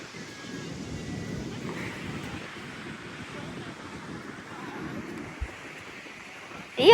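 Surf washing onto a beach at Saadiyat Island, a steady broadband rush of waves with wind noise on the microphone, continuous and moderately loud, with a brief sharp sound near the end.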